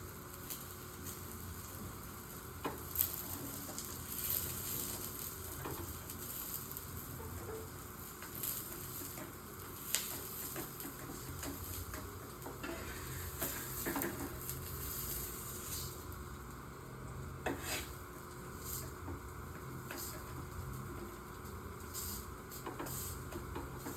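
A paneer frankie roasts in ghee on a pan, giving a steady quiet sizzle and spatter with scattered soft crackles and clicks across the whole stretch, with no one speaking.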